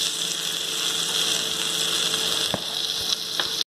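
Butter melting in a kadai over a low simmering flame gives a soft, steady sizzle with faint crackles and a few small pops, close and continuous with no voices.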